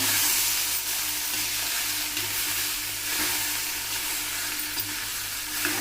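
Dal stirred into a hot pan of sizzling food while cooking, a steady loud frying hiss with soft scraping stir movements throughout and no talk.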